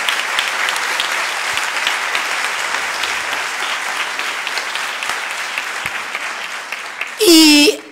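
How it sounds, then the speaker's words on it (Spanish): A business opportunity meeting audience in Mexico applauds, a dense continuous clapping that holds steady for several seconds before ending in a short loud burst. "Sí, aplaudan,"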